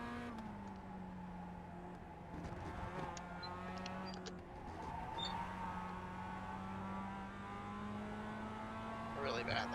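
A Mazda MX-5 race car engine in iRacing holds a steady droning tone through most of the stretch, with a brief rise in pitch near the end, heard alone at a moderate level.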